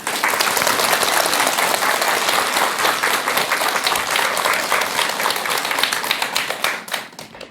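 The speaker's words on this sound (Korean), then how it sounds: "오늘 이렇게 좋은 말씀해 주신 우리 스님께 여러분 큰 박수 부탁드립니다" A studio audience claps for a Buddhist monk after a talk on suicide prevention, in loud, sustained applause that fades at the very end.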